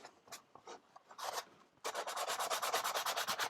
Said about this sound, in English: The sanding block's doing pretty nice though.